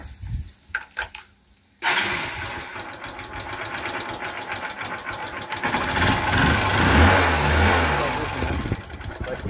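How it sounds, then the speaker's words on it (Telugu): A motorbike with a freshly repaired chain gives a few clicks and knocks before its engine catches, then runs loud and close with a steady rough idle that swells slightly as it revs. "బైక్ అయితే స్టార్ట్ చేస్తున్నా."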